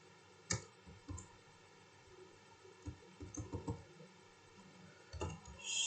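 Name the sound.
typing a command on a keyboard and pressing enter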